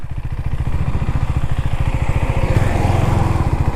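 A Husqvarna Svartpilen 401 single-cylinder motorcycle thumps along at steady speed over a washboard dirt road, its loud, close, rhythmic pulsing engine note running throughout with a slight rise near the end.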